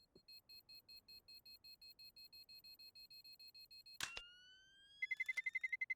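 A Counter-Strike bomb timer ticks out evenly spaced electronic beeps, quiet and steady, then a sharp metallic click and a faster run of rapid beeps near the end.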